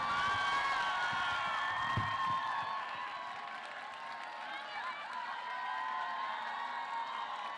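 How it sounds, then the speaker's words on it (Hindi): Audience at a mushaira in 2025 cheers and claps, a continuous crowd roar with whoops rising near the start and easing off to a steady hum of sustained applause and voices. "आपकी भरपूर तालियां दी जाइए उनके लिए"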